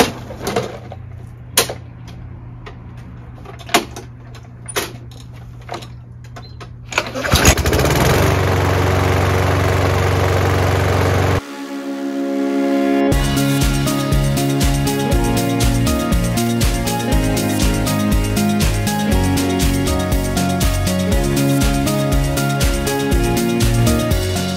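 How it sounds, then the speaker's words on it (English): A lawnmower engine starts after some clattering and pulls, then runs steadily and loudly with a rhythmic chugging throb, close by. "Fingers crossed I'm going to be able to start the lawnmower."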